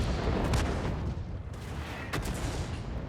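A couple of heavy KV-2 tank cannon blasts in World of Tanks boom through a dense, rumbling battle soundscape.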